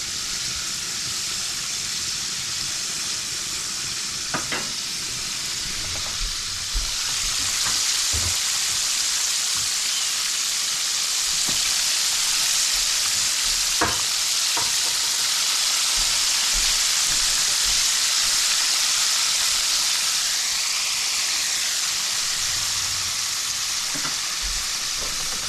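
Eggplant (bigan) frying in a pan with just a little oil hisses in a steady, close sizzle, with faint scraping and clinking from utensils now and then.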